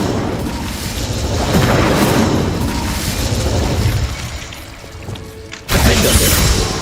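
The Incendio fire spell in the Hogwarts Legacy game sounds as a loud, rumbling fiery roar that swells and fades, then breaks into a sudden fresh burst near the end.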